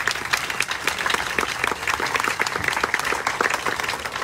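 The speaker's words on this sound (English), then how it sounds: "give them a round of applause for making this day possible with their vision" Steady, dense applause from a crowd at a ribbon cutting ceremony, sustained throughout with many overlapping claps and no pauses.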